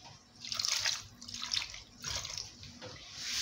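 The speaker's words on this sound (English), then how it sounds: "I'm adding some water inside." Water pours into a cooking pot in several splashing bursts at a moderate distance, with brief pauses between pours and no talk over it.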